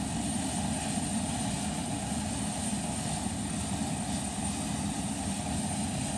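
A 1957 Convair CV-580 airliner flown by Air Chathams runs its engine during start, a steady, loud, droning roar with a low rumble, heard continuously from inside the aircraft, with no talking.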